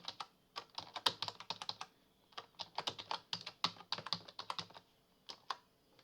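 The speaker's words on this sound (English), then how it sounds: "I enter my password." A password is typed on a computer keyboard at an Ubuntu command line, giving bursts of crisp, close key clicks in quick irregular runs with short pauses between.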